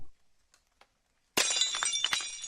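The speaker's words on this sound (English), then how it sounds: "The sound of breaking glass." Glass shatters in a kitchen after a near-silent pause, with a sudden loud crash followed by scattered tinkling and cracking fragments.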